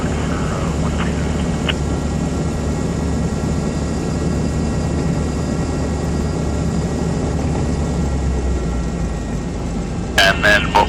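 A Diamond Star DA40 light aircraft's piston engine rumbles steadily while taxiing at Long Beach airport, a loud continuous drone with a brief higher clatter near the end.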